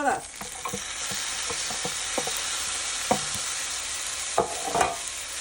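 Vegetables are stirred into sizzling rice in a pan for arroz con pollo, a steady hiss of frying broken by a series of light spoon taps and scrapes against the pan, close and moderately quiet, without speech.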